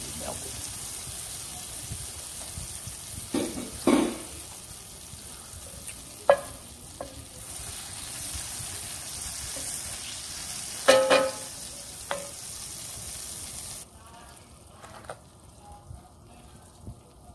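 Butter melts in a pan over heat with a soft steady sizzle, interrupted by several clinks and scrapes of utensils before the sound suddenly drops quieter near the end; no speech.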